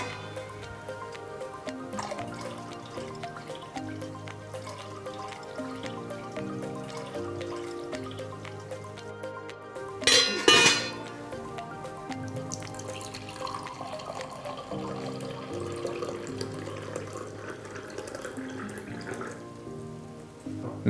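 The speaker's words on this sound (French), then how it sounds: "Nous allons maintenant verser l'eau que nous voulons filtrer dans la cuve supérieure." Water trickles and drips through a WEEPLOW O'Pure 2 filter cartridge into a gravity filter tank, a soft continuous flow with one brief louder splash partway through.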